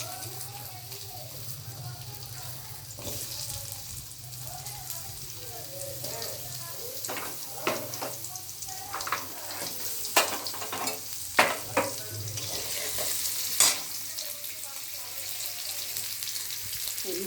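Soybean chunks frying and being stirred in a pan for a Bengali doi soyabin dish, a steady crackling sizzle with scraping spoon strokes that grow louder mid-way, heard alone without talk.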